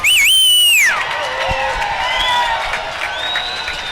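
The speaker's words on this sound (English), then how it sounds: "This last 25, I want us cheering so loud the bleachers are shaking." Loud crowd cheering and whooping in the bleachers at a masters swim meet, opening with shrill sustained whistles or screams before settling into a continuous roar with scattered shouts.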